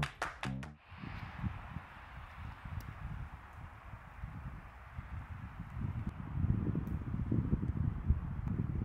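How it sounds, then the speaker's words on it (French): Steady outdoor wind buffets the microphone at an autumn camper van parking spot, a broad continuous rumble with gusts that swell louder toward the end, alone without speech. "c'est toujours aussi venteux."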